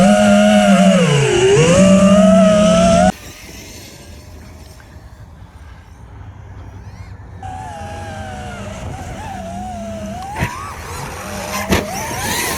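A Losi DBXL-E 2.0 electric RC car with a 16-tooth pinion on a Max 5 motor whines loudly at half throttle, its pitch dipping and rising, then drops to a quieter hum before the whine returns with a couple of sharp knocks.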